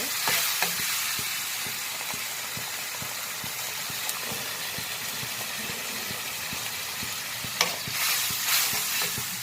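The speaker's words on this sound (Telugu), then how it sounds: "ఇది కొంచెం సేపు ఫ్రై అయితే పచ్చివాసన లేకుండా పోతుంది అల్లం తెల్లగడ్డ టమాటా పేస్ట్." Ginger-garlic and tomato paste fries in a pan for a cauliflower veg biryani, a steady close sizzle with soft rhythmic scraping as it is stirred, continuous and unbroken by speech.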